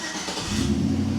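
A Chevrolet Silverado engine cranking: a brief, close mechanical turnover with a low rumble that swells toward the end, heard alone without talk.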